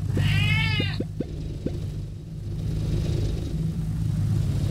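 A cartoon cat meows once in the Crossy Road video game over a steady rumble of passing traffic, followed by a few soft clicks.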